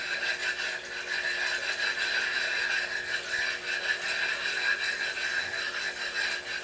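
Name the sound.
Naniwa flattening stone rubbed on a dished waterstone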